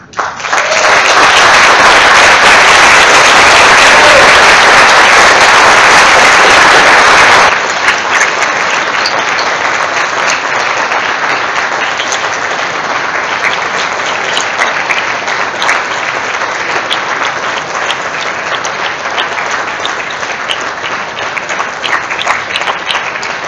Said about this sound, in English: The long applause